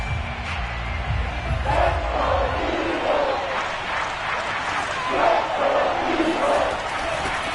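Football stadium crowd during a Vikings game, a broad roar of many voices swelling and falling in waves around a third-down play, with a commentator's voice heard over it.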